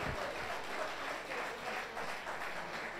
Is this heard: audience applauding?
yes